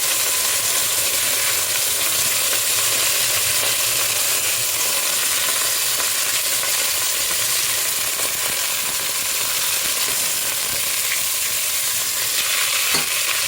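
Chicken and chickpeas fry in a hot skillet with a constant loud crackling sizzle, steady throughout with faint stirring scrapes.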